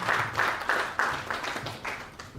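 An audience at a blockchain policy dialogue applauds as a speaker takes the stage, a few loose rhythmic pulses of clapping, moderately loud and close.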